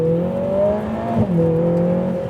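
Lotus Emira turbo in sport mode pulls hard under repeated throttle on a patchy, wet road, its engine note rising steadily, dipping briefly, then climbing again, loud and close with no talk.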